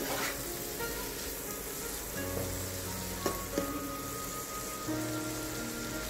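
Prawns fry in a pan with chopped onion, ginger and garlic, giving a steady broadband sizzle like rain on a surface, with a couple of faint clinks partway through and no talking.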